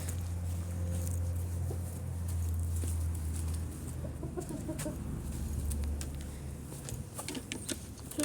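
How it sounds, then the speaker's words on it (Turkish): Several roosters and hens cluck and scratch nearby over a constant low hum, with scattered pecking taps and soft bird calls. "Horozların yanına geldik."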